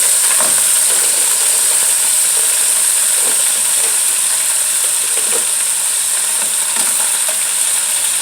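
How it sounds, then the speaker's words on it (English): Lobster sauce for a seafood curry sizzles loudly and steadily in a hot pan, a bright, continuous frying hiss with soft crackles and no talking. "I'm gonna put my lobster sauce in."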